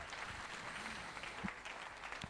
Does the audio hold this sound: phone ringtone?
no